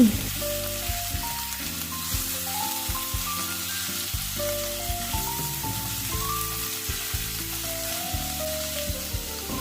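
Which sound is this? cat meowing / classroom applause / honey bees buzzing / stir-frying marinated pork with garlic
stir-frying marinated pork with garlic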